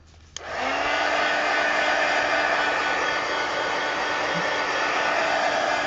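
A hair dryer switches on for drying paint on a coloring page, then blows as a loud, steady whoosh that continues unbroken to the end, with no talking.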